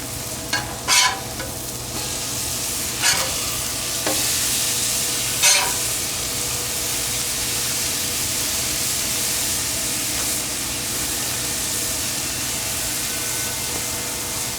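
Smash burgers sizzling on a Pit Boss Charleston Onyx Edition griddle, a constant close frying hiss with a few sharp scraping clicks as the spatula flips the patties.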